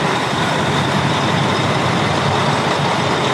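A Mack truck rumbles past during a vintage vehicle parade at Wheels at Wanaka, giving a loud, steady broadband engine and road roar that holds at close range without a break.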